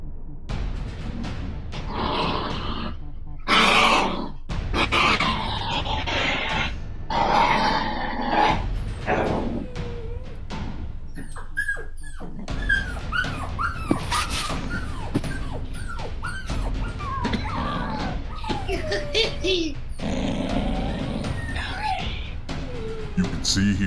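A dog growls, whimpers and yips in distress in a room. The cries come in uneven bursts beneath near-constant talking.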